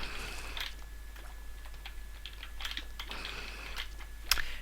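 Key clicks from a basic computer keyboard tapped in short irregular bursts, fairly close and moderately quiet, with one sharper, louder clack near the end and no voices.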